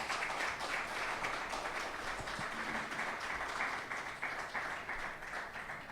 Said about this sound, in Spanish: Damos un aplauso, por favor, a él.